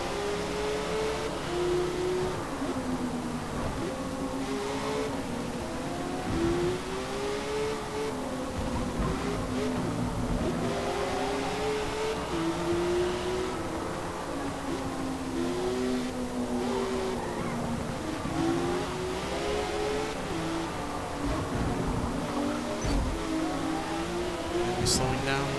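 Porsche 911 race car with a rear-mounted engine, rear-wheel drive, driving in Forza Motorsport: a steady, loud engine drone runs the whole time with rising and falling revs through gear changes, and a voice talks over it.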